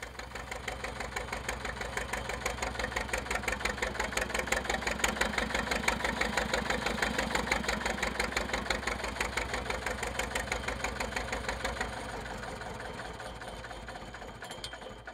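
A Shepherd Diesel SD3 tractor engine idles steadily, its fast, even knocking pulse close and alone, easing slightly near the end.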